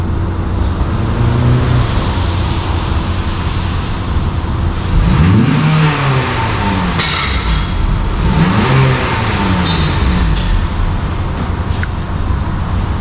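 Acura TLX engine with stock mufflers and intake, a steady low drone from inside the car with two smooth rev rises and falls midway, loud and continuous with no talk.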